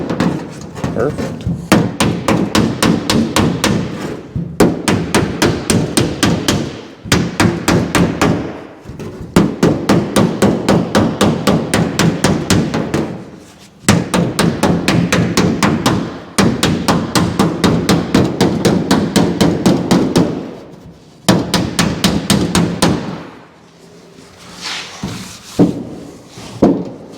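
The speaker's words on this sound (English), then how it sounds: "Little hammer and dolly work there" A small body hammer beating a dolly against the steel panel of a 1955 Chevy, fast metallic blows in long rapid runs broken by brief pauses, close and loud, with someone talking between runs.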